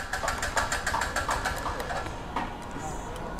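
Wrench ratcheting on a motorbike suspension bolt, a quick run of evenly spaced mechanical clicks over about two seconds, then a few scattered clicks over a steady background hum.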